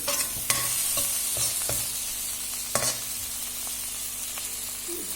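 Tomatoes fry in a pan while a utensil stirs and scrapes them, a steady close sizzle broken by several sharp spoon knocks against the pan, with no talking.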